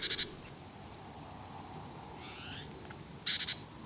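Short bursts of high, rapid bird chirps at Enchanted Rock come at the start and again near the end, over a low steady outdoor hum.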